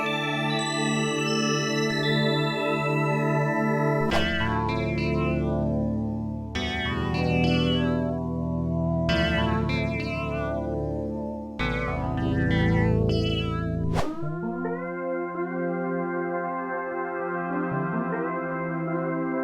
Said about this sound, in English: What you're hearing is the sound of an oscillator modulating between single cycle digital waveforms.